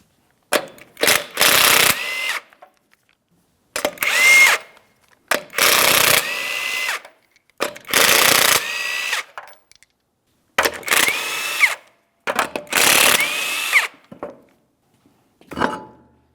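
A power tool spins off the 21mm lug nuts from the driver's side front wheel of a 2003-2008 Toyota Matrix in six or seven loud, close bursts of whirring, each lasting about a second, separated by short silences.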